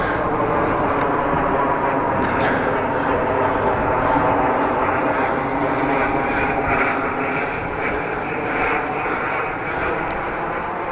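A twin-propeller airplane drones steadily overhead during a bike ride in the Netherlands, its broad engine hum loud and continuous throughout with no speech.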